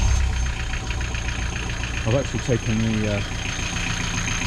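Marine diesel boat engine started from the upper helm panel and settling into a steady low idle, a continuous rumble running throughout with a person talking briefly over it.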